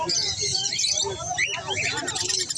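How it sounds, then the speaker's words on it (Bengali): Many small birds chirp and twitter densely all at once at a bird market in Srirampur, a busy, close chorus with a low murmur of voices beneath. "পাখির মেলায় এসেছি"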